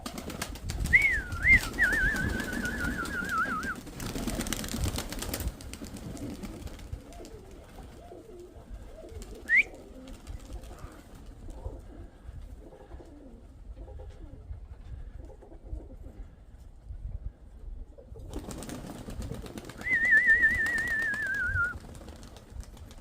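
Pigeons coo in short bursts with a clear rising-falling call near the start and again near the end, with rustling and a brief flutter of wings in between.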